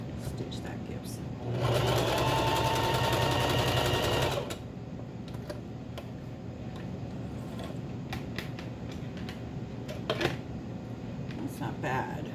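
A sewing machine stitching ribbon onto a skirt runs in one short, even burst of rapid buzzing stitches, close and clear, then stops, leaving quiet room sound with small handling clicks.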